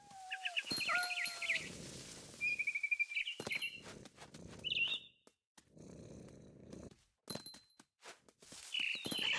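A frightened barn swallow in the game What Remains of Edith Finch gives a few sharp, high chirps and squeaks. They are spaced among rustling, thumping movement and low cat-like noises.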